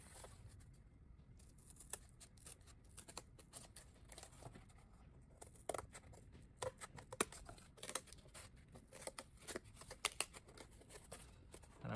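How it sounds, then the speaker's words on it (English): Scissors cut through a paper drapery bracket template in a run of quick, irregular snips and crisp rustles. The sound is close but fairly quiet, and there is no talk. "So I'm gonna do some cutting real quick"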